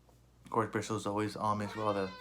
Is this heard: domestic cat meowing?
yes